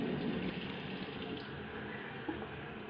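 Running water splashes steadily as mascara is rinsed off the face, making a continuous close wash that stays fairly even from start to end, with no talking.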